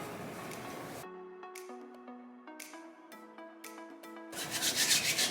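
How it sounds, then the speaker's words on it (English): Hands rub hair product together in short dry swishing passes at the start and end, with soft tonal ringing in between and no speech. "Whatever's left, I'm just rubbing it together, putting it throughout my hair."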